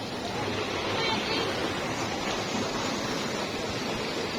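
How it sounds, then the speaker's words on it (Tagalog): A waterfall on a hiking trail near a creek with deep water in Silang, Cavite, a steady broadband roar of falling water filling the whole stretch without letup, loud and close. "May waterfall"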